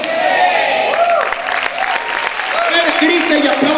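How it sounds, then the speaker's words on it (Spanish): Congregation applauding and shouting during a Spanish-language church service, dense clapping and crowd noise with a voice over it throughout. "Grita y aplaude fuerte al Rey"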